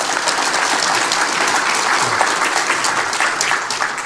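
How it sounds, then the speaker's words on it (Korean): An audience at a public briefing session in Yeosu on the Gwangju–Jeonnam administrative and education integration breaks into dense, continuous applause, loud and even for about four seconds. "우리 박수 한번 보내주시죠."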